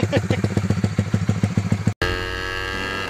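A tuned Honda GTR motorcycle engine runs in a rapid, even pulsing idle of loud near thumps, then cuts abruptly and switches to a smoother, higher steady drone.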